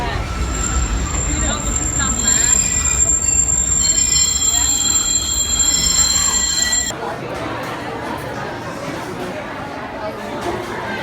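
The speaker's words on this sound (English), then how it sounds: "please remain seated until the train comes to a rolling complete stop" A train rumbles loudly with high-pitched wheel squeals and whining brakes, then quiets abruptly to a softer rolling hum as it slows.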